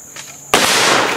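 A muzzleloader rifle fires a single sharp, loud, close shot at an outdoor woods-walk shooting event, the blast following a brief quiet moment and trailing off in a short rumble.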